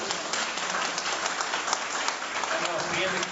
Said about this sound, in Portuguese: uma salva de palmas para a nossa